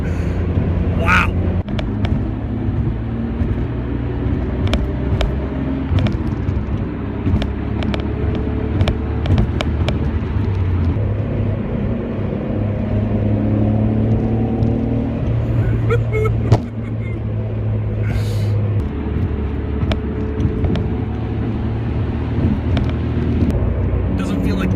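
A Nissan Skyline GT-R cruises along an open road, its engine and tyre roar a steady, continuous drone heard from inside the car, with faint clicks and rattles scattered throughout.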